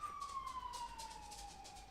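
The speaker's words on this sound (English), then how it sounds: "Don't worry about the sirens. We get that all the time because we're on the main route" A police siren wails in the distance on a main road, its tone sliding slowly downward as it passes, faint and steady with traffic rumble below.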